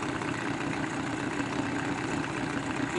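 A boat engine idles steadily on its first outing, warming up with a constant low rumble and hum that holds close and even throughout, with no voices over it.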